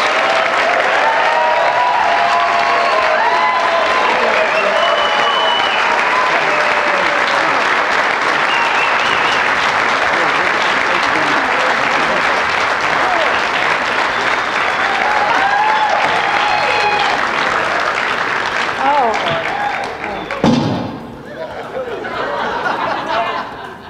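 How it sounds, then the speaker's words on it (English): Loud, sustained applause from an audience fills a hall at the East Coast Surfing Hall of Fame induction ceremony, with scattered cheers and crowd chatter, easing off near the end. "Ladies and gentlemen, big round of applause."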